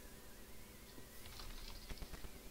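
A typewriter in the Minecraft Sky Factory game clacks out a short run of keystrokes, soft at first and then a denser cluster of taps toward the end, sitting faint under steady background hiss.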